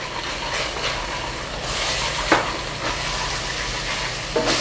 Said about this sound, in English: And I'm cooking gochugaru.